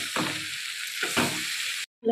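Potatoes with masala sizzle loudly in a pan while being stirred and sautéed, with a steady frying hiss and two scraping stirs before a brief cut to silence.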